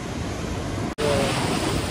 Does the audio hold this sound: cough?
no